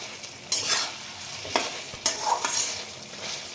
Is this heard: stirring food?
yes